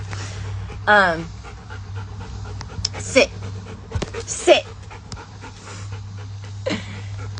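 A dog pants steadily and close by, with a few short whining, whimper-like cries along the way, while a person speaks briefly over a constant low hum.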